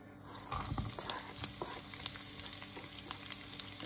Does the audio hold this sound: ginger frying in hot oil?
yes